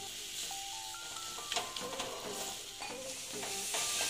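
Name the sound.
frying jackfruit and potato curry masala in oil in a pan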